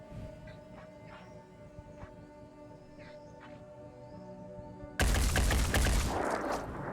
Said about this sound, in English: Great shooting, Spunkmeyer.